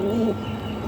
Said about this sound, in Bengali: দাপড়ির কবুতরগুলা